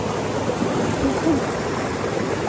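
Stream water flowing steadily at Stenkrith Park, a broad continuous rushing wash with faint voices underneath.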